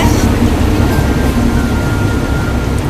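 A train passing overhead in Hanoi, Vietnam, a steady, fairly loud low rumble that continues unbroken throughout.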